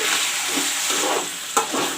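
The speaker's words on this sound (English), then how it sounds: "Mix the vegetable nicely." Brinjal, potato and cauliflower frying with chopped tomatoes and coriander leaves in a pan, stirred steadily, giving a continuous loud sizzle with scraping strokes and one sharp clink of the spoon near the end.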